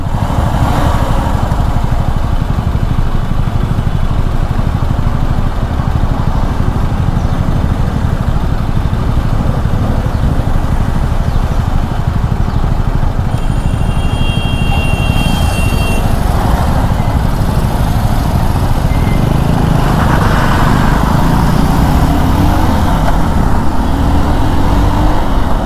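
Motorcycle engine running continuously during a commuting ride, a steady loud drone with wind rush throughout and no talk.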